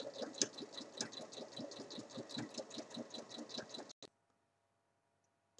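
A sewing machine runs in a steady rapid stitching rhythm, joining the side bands of a small fabric pouch right sides together, close and continuous for about four seconds before stopping into near silence.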